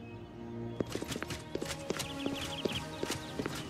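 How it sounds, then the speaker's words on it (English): Horse hooves clip-clop in the fantasy game Elder Scrolls IV: Oblivion, a steady series of sharp, fairly close footfalls over a low in-game ambient bed, with no talking. "Wait, is that a horse?"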